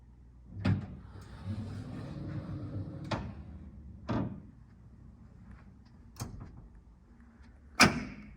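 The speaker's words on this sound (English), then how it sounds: "We're gonna get out and let the door close," A Savaria hydraulic wheelchair lift's door closes, producing several soft thuds and clunks spaced a few seconds apart over a low mechanical hum, ending with a sharper latch-like knock.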